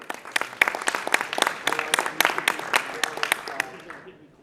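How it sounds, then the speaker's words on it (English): Audience round of applause at a live business event, a burst of sharp claps that rises quickly, holds, then thins out and fades near the end, with some voices beneath. "Round of applause."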